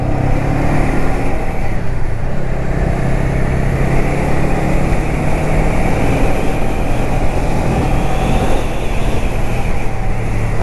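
A 2019 Honda Rebel 500 cc motorcycle underway, its engine a steady, continuous rumble mixed with wind rush at close range, holding an even drone throughout with no talk.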